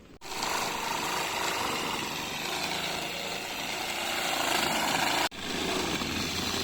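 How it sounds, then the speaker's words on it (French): A steady, loud buzzing small reciprocating saw grinds continuously for several seconds at a campsite, pausing briefly near the end before starting again, close up. "je vais les couper un peu là. Ouais, Avec la petite scie sabre."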